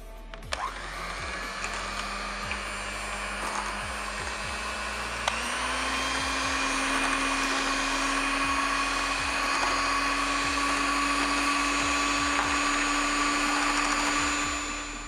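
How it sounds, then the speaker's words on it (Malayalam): Electric hand mixer beating fresh cream: a steady high motor whine that lifts in pitch a few seconds in as the speed rises, with faint rhythmic ticks of beaters against the bowl, close and continuous for the whole stretch. "ഇനി നമുക്ക് ഈ ക്രീം നന്നായി ബീറ്റ് ചെയ്തെടുക്കാം."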